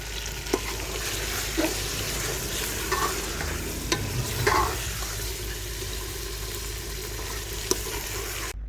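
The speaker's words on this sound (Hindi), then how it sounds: "मैं चिकन को फ्राई कर रही हूँ।" Chicken fries in a pan for a desi-style chicken pulao, a continuous close sizzle with occasional sharp clicks and scrapes from stirring, no talking.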